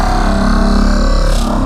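Massive bass built from a pitch-shifted World Serpent roar sample from God of War: a heavy, distorted low drone, loud and steady throughout, with a brief brighter swell near the end.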